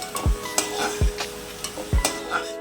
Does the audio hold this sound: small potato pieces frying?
yes